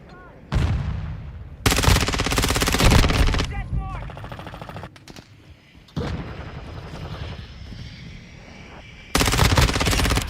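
Rapid bursts of ISO 9mm submachine gun fire in Call of Duty Modern Warfare II, several loud sustained volleys separated by short gaps filled with quieter reload and handling clicks.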